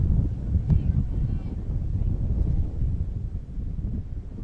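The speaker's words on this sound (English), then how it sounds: "Breezy with a south wind around 26, with gusts as high as 40 miles an hour." Steady low rumble of gusty wind buffeting the microphone at an outdoor softball game, south wind around 26 mph gusting to 40 mph, with continuous broadband roar rising and falling slightly throughout.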